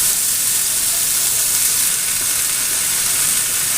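Chopped bean plant greens fry in hot oil in a pan, a loud, steady, hissing sizzle that fills the whole stretch without any talk.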